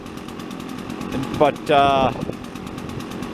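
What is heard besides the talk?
Husqvarna 150BT backpack blower engine revving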